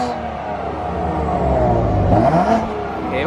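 BMW S55 engine revving with the exhaust valves closed through an Active Autowerke equal-length mid pipe, a loud close droning growl that rises in pitch and then falls, with no voices.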